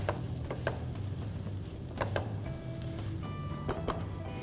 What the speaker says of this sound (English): Once you saute the cashewnuts and the tendli with goda masala, add some green peas.